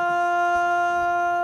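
A sustained vocal sample pitch-corrected to the key of F with Metatune, holding one steady tuned tone with a glassy synthetic timbre, close and even, with no talking.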